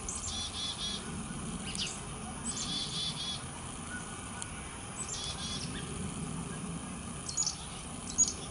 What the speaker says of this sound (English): Chickadee and the finch are having a bit of a battle.